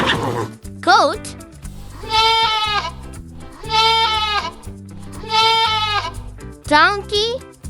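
A goat bleats in three long, wavering calls separated by short pauses, set over cheerful background music, with a child-like voice giving brief animated cries at the start and end.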